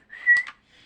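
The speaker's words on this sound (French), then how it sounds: "Oui, je siffle" A person whistles a single short sustained note that swells and then breaks off, clear and close, followed by faint quiet.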